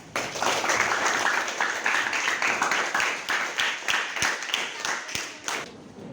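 Classroom applause from pupils during a microteaching lesson: steady clapping from a group lasting about six seconds, close and fairly loud, with a few sharper individual claps standing out toward the end.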